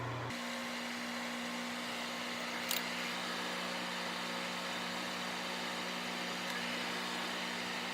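A small handheld fan blows a steady, even whir to dry freshly applied face makeup, running continuously at close range with a constant hum and no talking.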